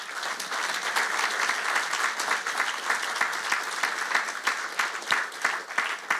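A church congregation claps loudly and continuously during a worship service, a dense, steady crowd applause with some sharper individual claps standing out.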